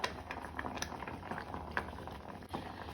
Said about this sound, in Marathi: आता आमी नुस्तें घालून घेवया, बांगडे घालून घेवया।